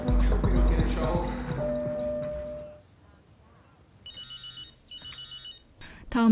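A telephone rings in two short electronic bursts after loud music and noise fade into near silence, followed by a sudden sharp sound at the end.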